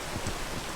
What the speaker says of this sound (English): Oh, this rain is killing me.